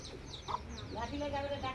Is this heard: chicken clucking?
yes